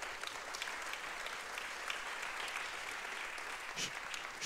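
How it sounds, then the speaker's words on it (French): An audience at a French talk on AI and the environment applauds the speakers, a fairly quiet, steady wash of many hands clapping from a distance, continuing evenly throughout. "Oui, on peut les applaudir."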